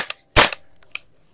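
A WE M16A3 gas blowback airsoft rifle fires one sharp, loud shot during a velocity test, preceded by a faint click and followed by a brief mechanical clack, with silence between.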